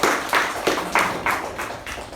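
Short burst of applause at a Toastmasters meeting, a small group clapping in uneven surges that fade over about two seconds.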